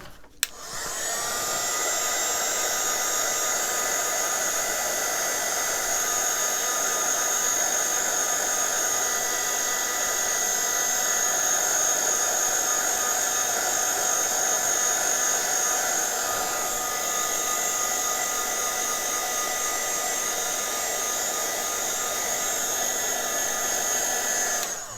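An embossing heat tool heat-setting Nocturne ink on a card, a steady loud whirring blower hum that starts after a click and runs unbroken to the end, close and alone.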